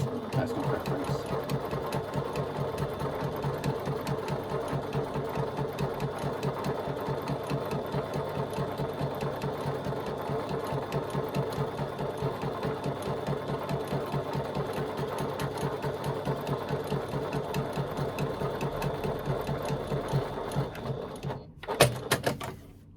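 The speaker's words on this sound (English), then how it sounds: "I'm going to do a second line of top stitching at 1/8 of an inch" A sewing machine runs a second line of topstitching at one-eighth of an inch, a fast steady mechanical whir and needle chatter for about twenty seconds that stops abruptly near the end, with a voice speaking over it.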